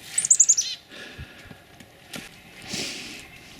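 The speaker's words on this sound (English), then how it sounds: "the first birds to come in, of course, are the chickadees" Chickadees at a bird feeder on a hiking tract in Kawartha Lakes, Ontario, give a quick run of five or six bright, high call notes, then faint rustles and soft bumps follow in a quiet outdoor setting.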